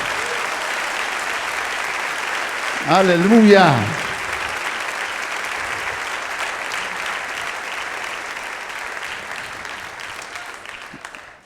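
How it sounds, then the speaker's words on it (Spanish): A church congregation applauding, steady dense clapping that carries on for several seconds, with a voice calling out briefly near the start. "Dale fuerte el aplauso."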